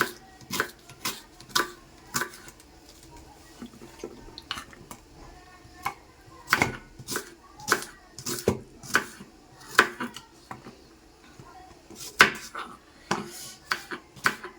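Onions chopped with a knife on a board give a run of sharp, irregular knocks, roughly one or two per second, close and fairly loud over a quiet kitchen background.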